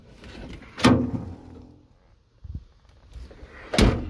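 The very light door of a Renault Encore in a junkyard is worked by hand, with two solid thuds about three seconds apart and a softer knock between them, heard close up without talk.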